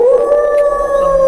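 A single dog howls in one long, loud, sustained tone close by at night near a farm field, steady and unbroken with no talking over it.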